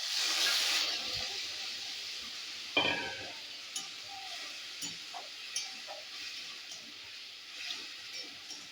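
Ginger paste frying in a pan, a soft steady sizzle with occasional stirring clinks and scrapes, loud hiss at first then settling quieter.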